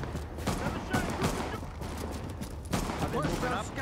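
Rapid bursts of gunfire from a shootout in Tom Clancy's The Division, fairly close, with irregular volleys and people talking over the shooting.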